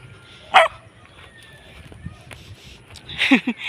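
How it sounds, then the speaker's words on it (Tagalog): A dog gives a sharp bark, then a couple of quick barks a few seconds later, mid-distance, over faint background noise and some movement. "May aso pa. Sana hindi nangangagat ang aso."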